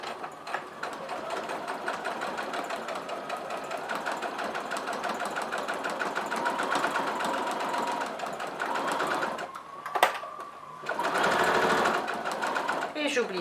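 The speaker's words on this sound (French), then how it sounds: "je vais faire une couture au point droit à l'aide de mon pied à fermeture éclair, ici et ici." A sewing machine runs a straight-stitch seam with a zipper foot on a small fabric coin purse, whirring in a fast steady mechanical rhythm that pauses briefly before resuming.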